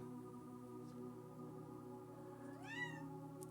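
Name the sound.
cat meowing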